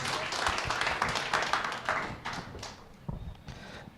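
A church congregation at a watch night service claps in a lively burst that is loud at first, thins out and fades over a few seconds, ending in a few scattered claps.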